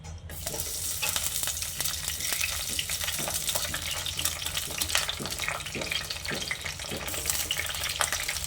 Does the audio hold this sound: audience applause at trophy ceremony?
no